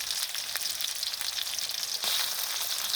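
Ginger, garlic and cumin paste frying in hot oil for a fish curry, a steady loud sizzle throughout with a brief surge partway through, no voices.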